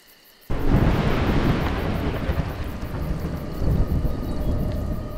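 Thunder in the video game A Juggler's Tale: a sudden loud rumble breaks in after a short quiet, then a sustained deep roll with swelling surges, heard alone with no talk.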